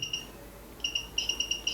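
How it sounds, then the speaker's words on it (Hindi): A handmade all-in-one electronic component tester sounds its buzzer while testing an IR receiver: short high-pitched electronic beeps, a pair, then a faster repeating series, fairly close, with no voices. "बजर बज रहा है"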